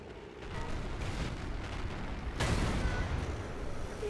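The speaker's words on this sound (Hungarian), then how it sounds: "És még egy lövés, és ez is talál." A single gunshot in the video game Haydee lands on its target: a soft, muffled crack partway through, over quiet, steady game ambience.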